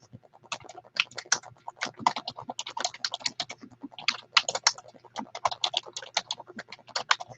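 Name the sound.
typing on a computer keyboard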